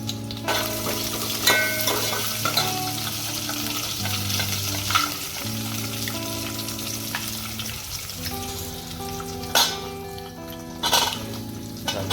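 Cashews, curry leaves, chillies and cumin fry in hot oil for khichdi, giving a steady, close sizzle with scattered spits and pops and occasional stirring knocks against the pan.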